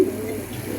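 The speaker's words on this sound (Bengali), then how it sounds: "মাশাআল্লাহ, অনেক সুন্দর কবুতর," Pigeons in a loft coo in a steady, fairly loud, close-up murmur with a soft rolling rhythm, heard alone without talk.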